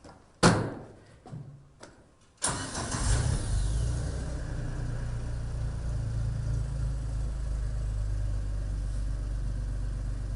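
Several thuds and a door slam come first, then a crew-cab Tracker off-road vehicle's engine starts and settles into a loud, steady low rumble for the rest of the clip.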